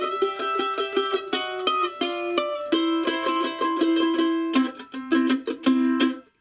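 Mandolin chop chords in C played on the lower, middle strings, a steady rhythmic stream of short percussive strummed chords shifting through several shapes, close and clear with no talking.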